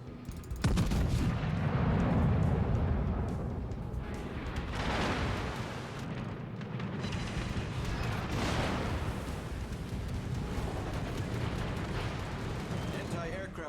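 Naval artillery in World of Warships: loud, repeated booming gun blasts rolling over a dense battle rumble, with a spoken voice heard over the fire.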